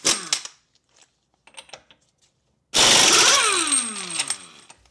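A McGraw 1/2-inch composite air impact wrench loosens a car axle nut torqued to 150 foot-pounds: a few short clicks, then a loud sustained hammering burst that winds down, close and without talking.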